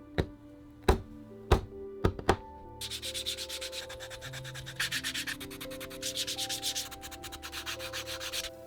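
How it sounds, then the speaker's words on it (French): Edges of a handmade leather wallet are sanded after the corners are rounded, giving steady, rhythmic scratchy rubbing strokes after a few sharp taps at the start, close and moderately loud with no voices. "j'arrondis les 4 angles et je ponce toutes les tranches"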